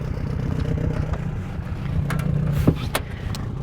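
A small boat's outboard engine runs steadily at low speed while trolling on a remote lake, a constant low drone close by, broken by a couple of brief knocks and splashes.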